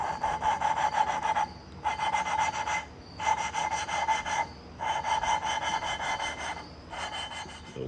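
A Honda TRX450R cylinder head being lapped by hand with abrasive compound: five rhythmic rubbing, rasping strokes of about a second each, with brief quiet gaps between them, close and clear, with no talking.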